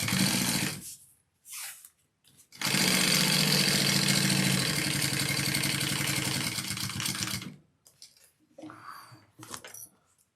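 A sewing machine basting a handbag shut runs in short bursts, then one long steady whirring stitch run of about five seconds, followed by brief stops and clicks, close and fairly loud.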